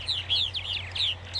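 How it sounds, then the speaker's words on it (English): A pair of tree swallows chirps in quick repeated bright twitters, close and clear over a low steady hum. "A tree swallow pair enjoying each other's company."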